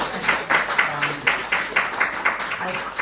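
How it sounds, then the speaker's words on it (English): Audience at a group show in a small venue applauding a film composer, a fairly soft, rhythmic patter of hand claps with a hint of murmuring voices underneath. "big round of applause for Tanara."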